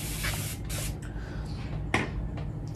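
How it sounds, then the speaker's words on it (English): A handheld spray bottle mists water onto natural hair in a few quick, close hissing bursts, with short pauses between squirts and one sharper spritz near the end. "I'm gonna spray my hair with a little bit more water"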